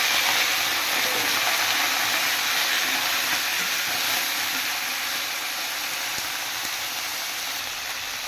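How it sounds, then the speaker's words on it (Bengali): Vegetables tossed into very hot oil in a pan, a dense, loud, steady sizzle and crackle close by that fades slightly toward the end, no talking. "আমার তেলটা খুব গরম হয়ে গেছে, আমি এবার সবজিটা দিয়ে দেবো"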